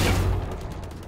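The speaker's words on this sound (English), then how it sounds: "That's a shotgun." A burst of shotgun fire in a video game, a loud close blast with a booming low thump that quickly fades into a rattling decay.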